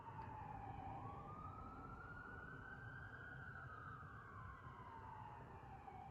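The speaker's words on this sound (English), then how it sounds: "These sirens have been going all the way up the canyon, so it's echoing up here" Emergency vehicle sirens rise and fall steadily at a distance, their tone smeared and reverberant as they echo up a canyon, over a low rumble of traffic.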